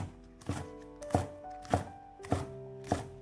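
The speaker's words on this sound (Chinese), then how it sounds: "葱白切成葱花" A knife chops scallion whites into rings on a cutting board, with five or six distinct knocks spaced about half a second apart, close and clear with no talking.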